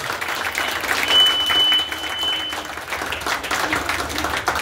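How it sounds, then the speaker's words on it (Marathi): A crowd at a Republic Day rally in Kurla applauds, a broad wash of clapping that swells and holds, moderately loud, with a faint tone running briefly through it. "परत एकदा टाळ्या होऊन जाऊ दे"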